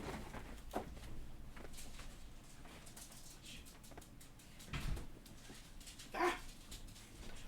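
Small, hyper-loud pet dogs barking indoors, a few short sharp yips and whimpers at a distance, quiet and sporadic amid soft background hum.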